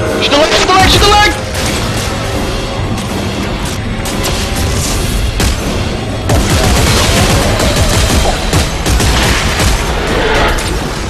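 Gunfire and heavy booming blasts from the sci-fi horror shooter Dead Space 3 in co-op play, loud and nearly continuous across the whole stretch, with players talking over the action.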